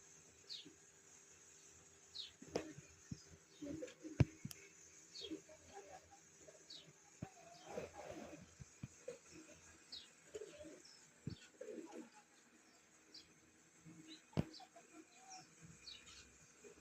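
Pigeons coo softly inside a pigeon house where a paired hen sits on eggs. Scattered, faint calls and chirps come and go over a quiet background.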